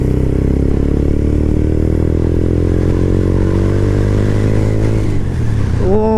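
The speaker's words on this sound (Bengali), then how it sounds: "that exhaust it's dam good" Modified Taro GP One V3 motorcycle exhaust revving loud and close, a steady rising engine drone that drops off sharply near the end before a brief new rev.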